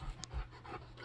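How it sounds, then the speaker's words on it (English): A dog panting indoors, needing to go outside; soft, quiet rhythmic breaths close by, with a few faint low thumps and no talking. "The dog needs to go out. You could tell by the way he's breathing."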